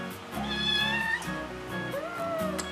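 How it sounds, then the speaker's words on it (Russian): A pet cat meows close by in a few drawn-out, rising and falling calls, clear and alone indoors with a quiet room hum behind. "У меня кот пришел."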